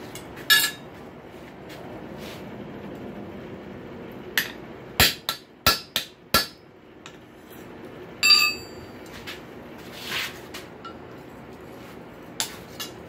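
A hammer strikes a heated rail spike on a blacksmith's block to punch a hole for a door handle. The sharp metallic blows come irregularly, some in quick clusters, with ringing clinks between them in a quiet room.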